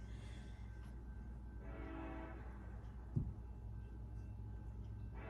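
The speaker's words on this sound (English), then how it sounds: "And here comes another train." A train rumbles past at low volume with a steady horn tone sounding in the distance, plus a brief thump partway through.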